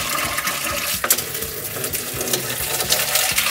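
Water mixed with fuel gushes and splashes as it drains from the fuel tanks of a UAZ that sank, a loud, continuous, close-up watery rush with small irregular splatters.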